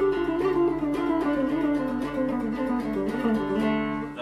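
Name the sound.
guitar playing a scale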